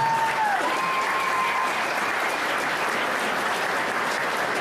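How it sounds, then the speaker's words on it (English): A crowd at a Tomah, Monroe County community event gives the donors a big round of applause, steady loud clapping throughout, with a short whistle-like tone near the start. "Please give them a huge round of applause"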